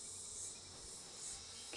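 Honey bees buzz steadily from an open brood box during a hive inspection, a faint, continuous insect drone with no voices.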